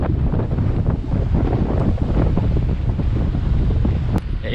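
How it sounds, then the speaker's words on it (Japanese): Heavy wind buffeting a microphone at the seashore, a loud, continuous low rumble and roar with a faint surf wash beneath, steady throughout with no clear voice. "風の音でおそらく僕の声は聞こえてないでしょう"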